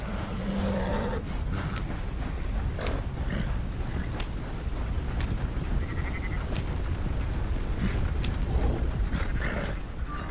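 Sheep bleat repeatedly in a video game, several short calls scattered over a steady bed of mechanical, whirring game ambience; no one speaks.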